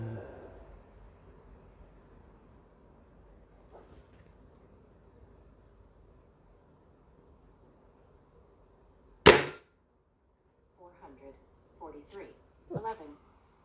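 A Weihrauch HW95C air rifle fires a 21.8gr pellet into a lead trap, one sharp, loud crack in an otherwise quiet room, followed by brief bits of talk.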